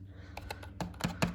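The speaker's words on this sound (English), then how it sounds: "This is the feel of the keys." Keys being pressed on an HP K500F backlit membrane wired gaming keyboard, a handful of soft clacky presses in a brief uneven burst, growing slightly louder toward the end, close up with no talk.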